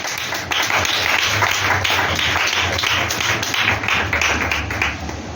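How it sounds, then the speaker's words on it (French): A church congregation applauds during a French-language service, a dense, steady patter of many hands clapping at once, loud and sustained without pause. "Acclamons la parole"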